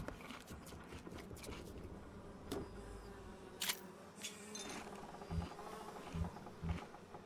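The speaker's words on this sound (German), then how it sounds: "Und ich höre jede Menge Bienen." A swarm of bees buzzes faintly in Bioshock, a low, steady drone that sits under scattered game noises and a few soft, thudding knocks.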